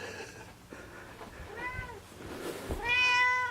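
A cat meows repeatedly in a house, with clear harmonic cries growing louder and longer toward the end, over a faint background of household noise and thumping drums.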